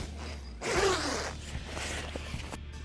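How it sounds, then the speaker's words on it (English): A zipper runs along the door of a fabric canopy wall kit: one quick, close rasping pull lasting under a second, followed by faint rustling of the material. "Got a zipper over here."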